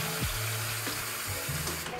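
A bathroom tap runs steadily in a sink, close and fairly loud, with a continuous splash and a few small gurgles and shifts in the flow.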